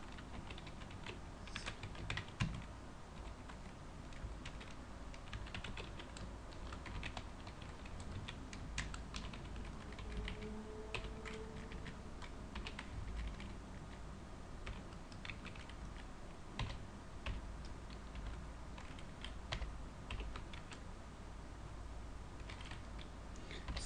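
Computer keyboard typing, soft and continuous with scattered clicks and a faint low hum underneath, close to the microphone and without talk.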